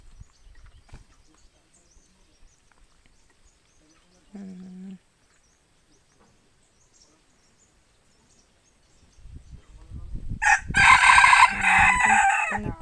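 A red junglefowl rooster, a labuyo, gives a single loud, ragged crow near the end, preceded by faint rustling, a short clucking note and a brief voice.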